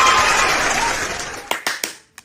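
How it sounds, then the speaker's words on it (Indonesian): Hands clap in a loud burst of applause that dies away, followed by a few separate, sharp, close claps spaced out toward the end. "Saya mau tepuk tangan dulu."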